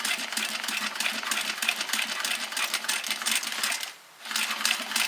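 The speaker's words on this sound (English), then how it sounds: "I'm just sewing all the way around it" A sewing machine runs a steady, fast mechanical whir while top stitching around a fabric bowl cozy at a 4mm stitch length, pausing briefly near the end before starting again.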